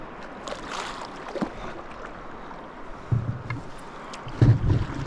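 A canoe bumps and scrapes its way down a river chute, with soft water rush throughout and two heavier low thumps of the hull striking rock near the end.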